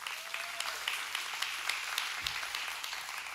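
A church congregation at a Sunday service applauding steadily, dense clapping sustained throughout at moderate loudness.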